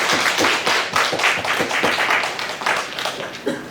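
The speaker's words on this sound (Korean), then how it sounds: "우리 박수 한번 드리겠습니다" A church congregation claps in welcome for new members during a Sunday worship service held under social distancing, a small group producing distinct, rhythmic, moderately loud claps that fade slightly toward the end.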